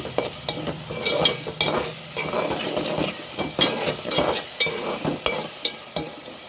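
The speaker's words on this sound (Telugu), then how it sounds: "పచ్చిమిర్చి, ఆనియన్, అల్లం వెల్లుల్లి పేస్ట్ చక్కగా ఫ్రై అవ్వలేదా" Green chillies, onion and ginger-garlic paste sizzle in a pan as a spoon stirs them in quick, repeated scrapes and clinks. The frying is close and busy, with no talk.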